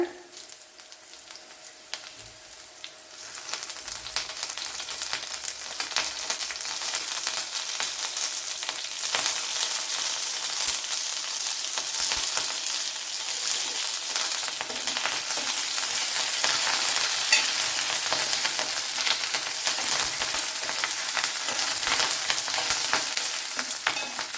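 Green chillies and curry leaves fry in hot oil for a Kerala-style gooseberry dish, giving a steady, bright sizzle that swells louder after the first few seconds and holds for the rest of the clip, with no voices.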